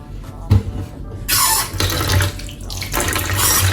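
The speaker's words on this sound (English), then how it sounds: "So I'm using cold water to rinse out the hair, no more hot water." Cold tap water runs steadily into a sink in loud, continuous rushes, the flow surging and shifting as shampoo is rinsed out of a blonde wig under it.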